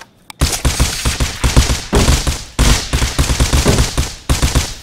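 Explosions and rapid gunfire in the survival game Rust, with loud, dense bursts of shots and blasts hammering almost continuously after a brief quiet start.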